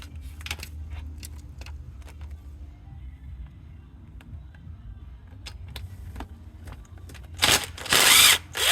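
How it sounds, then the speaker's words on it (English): A 10 millimeter bolt is worked loose from the crank sensor on an Acura MDX, with a series of sharp metallic ratchet clicks and taps, then a loud burst of power-tool whirring near the end. "it's a 10 millimeter bolt that holds the sensor in place. So let's go ahead and take that bolt out."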